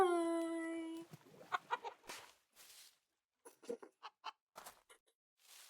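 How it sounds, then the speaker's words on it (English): Minecraft chickens clucking in a short burst of harmonic cackles at the start, followed by scattered short clucks and squawks with pauses between them, moderately loud and with no talk over them. "I don't think I've heard the chicken noises before this."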